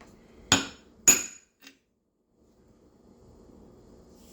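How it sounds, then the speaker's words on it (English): A part is tapped into a Husky 55 case with sharp, hard strikes: two close loud knocks, a fainter third, then another at the very end, separated by near silence. "I think I'm going to tap this side just a little bit."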